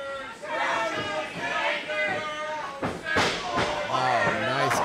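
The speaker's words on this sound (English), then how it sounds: "The crowd not letting up, though." A pro wrestling crowd in a JWA arena cheers steadily and loudly through a match between two wrestlers, with commentators talking over the noise and a few sharp impacts standing out.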